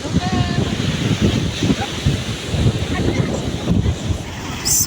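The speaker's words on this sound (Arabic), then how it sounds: "بصوا البحر جميل جميل. بصوا ارتفاع الموجة، ارتفاع الموجة كبير اوي اوي اوي اوي." Sea waves break at a beach in Marsa Matrouh under strong, gusty wind, repeated surging washes of surf with heavy wind buffeting on the microphone, loud and close.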